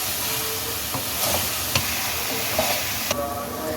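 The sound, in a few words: chopped onion frying in a pan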